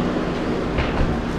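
An old 1991 Mercedes 240 in good condition idles on a street in Chaweng, Samui, its exhaust a steady, close, low rumble with no break and no voices.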